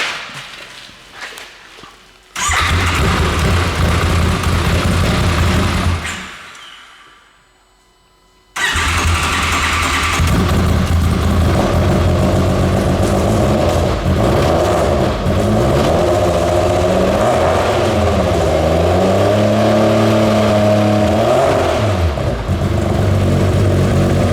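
A car engine cranks and fires, cuts out briefly, then restarts and revs up and down several times, loud and close.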